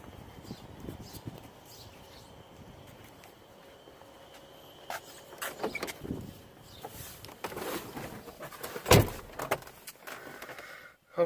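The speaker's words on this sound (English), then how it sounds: "let's go inside the vehicle and start it up." Someone climbing into a 1989 Renix Jeep Cherokee XJ and starting it: muffled door and cabin handling sounds, a key jangle, a sharp door thud near the end, then an engine catching, all close and fairly quiet.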